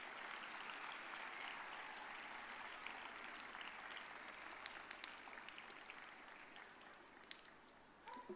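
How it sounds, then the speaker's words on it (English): Sustained applause from a school audience at an evening cultural program, steady and fairly distant throughout, with scattered individual claps standing out near the end. "Let's give them a very big round of applause,"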